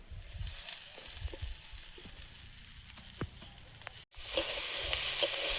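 Washed fenugreek greens go into a frying pan with salt and turmeric; after quiet scraping and clinks, a sudden loud sizzle bursts up and keeps hissing steadily.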